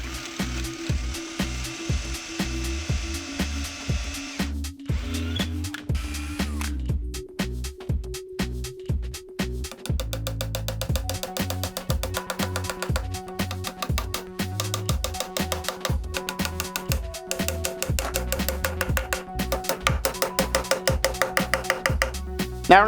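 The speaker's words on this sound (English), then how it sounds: "So now we're just gonna go ahead and drill." A drill works into a wooden board with steady, rapid rhythmic grinding strokes that continue for a long stretch, close and fairly loud, with no talking.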